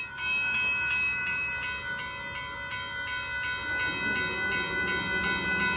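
A northbound Amtrak Texas Eagle passenger train approaches a road crossing in Austin, Texas, its steady rumble growing louder while a bright, ringing crossing bell clangs in regular pulses throughout.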